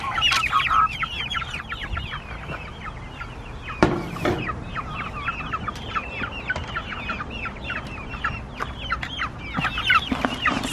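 Backyard chickens clucking steadily at an evening feeding, a busy flock chattering close by in overlapping calls with one brief louder bump partway through, no voices.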